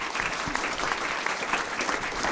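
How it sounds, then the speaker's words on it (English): Conference audience applauding at a workshop on population data, a steady wash of many hands clapping at moderate distance, continuous and even for the whole stretch. "let's give them a round of applause"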